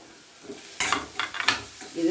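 Ginger and garlic fry in a hot pan, hissing and sizzling close up while a utensil stirs them in quick, uneven scrapes and clatters.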